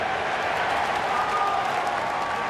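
A baseball stadium crowd at a Milwaukee at Pittsburgh game cheers and applauds, a steady dense wash of clapping and roar holding at even loudness throughout, with no distinct voices standing out.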